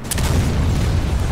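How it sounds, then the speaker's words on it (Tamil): In the PC video game Resident Evil Revelations 2, played with a mod, an explosion booms as a loud, sustained rumbling blast with a sharp crack at the start. "ஓ கடைசி டைம்ல வெடிக்குதான்."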